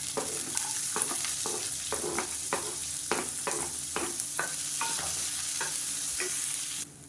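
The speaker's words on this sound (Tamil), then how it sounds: "இப்போ பொடியாக நறுக்குன்னு சின்ன வெங்காயம் சேர்த்துக்கலாம்" Finely chopped small onions sizzle steadily in a pan while a spoon stirs through them in repeated scraping strokes, close and continuous.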